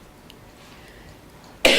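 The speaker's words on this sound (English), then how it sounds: "I'm gonna have some coughing going on." A single sharp cough from a man bursts out loudly at the very end, after a stretch of quiet room tone at a city council workshop meeting.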